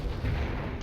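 An artillery barrage in the video game Company of Heroes, a heavy strike like a mortar call-in, comes as a brief, dense, low booming rumble that carries through the whole short moment.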